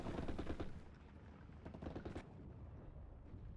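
Rapid bursts of gunfire from an anti-tank gun and infantry in the Steel Division: Normandy 44 war game, with dense rattling volleys at the start easing into a softer, distant crackle of continued shooting.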